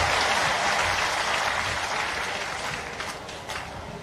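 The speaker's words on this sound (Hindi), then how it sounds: "जरा तालियां दोनों हाथ ऊपर उठा के ताली बजा के स्वागत कीजिए।" A crowd applauding at a political rally in Datia, Madhya Pradesh, a dense sustained clapping from a large gathering that gradually fades slightly toward the end.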